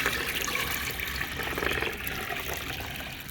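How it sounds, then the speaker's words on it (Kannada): Water poured from a small bucket into a container of liquid NPK 19 fertilizer for hibiscus plants, a steady splashing, gurgling pour close by, running continuously without talk. "ಒಂದು ಸ್ಮಾಲ್ ಬಕೆಟ್ ನೀರನ್ನ ಇದಕ್ಕೆ ಆ್ಯಡ್ ಮಾಡ್ತೀನಿ."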